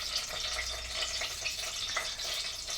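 Meat frying in hot oil with bay leaf and spices, a dense, steady sizzle close up with soft bursts of crackle and stirring.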